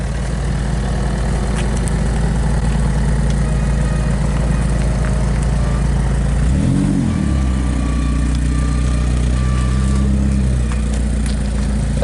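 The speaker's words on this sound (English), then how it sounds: "At least exhaust is alive." A BMW E36 compact fitted with a loud custom chrome exhaust idles close by with a steady, throaty rumble, and a brief rev swells and settles midway.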